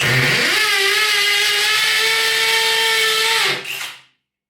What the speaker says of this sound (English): Make sure it's on hammer function, and now we can drill these two sections out.